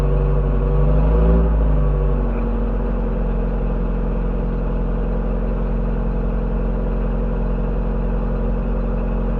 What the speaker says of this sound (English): I'll just step on the gas a bit.